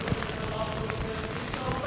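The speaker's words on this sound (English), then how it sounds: "And it's raining. Of course it's raining." Steady rain patters densely on a Zephros 1 tent during a New Year's morning wild camp on a Norfolk beach, a close, continuous drumming with no pauses.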